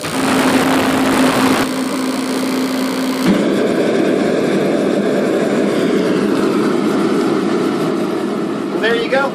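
A propane torpedo heater fires up and keeps running with a loud, steady roaring drone. A tonal whine sounds during the first few seconds.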